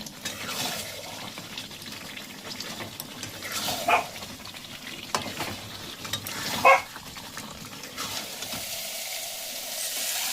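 Kashmiri alur dom masala sautéing in oil, the oil having separated near the end of cooking; a soft, quiet sizzle with occasional louder scrapes and clinks of a spoon against the pan.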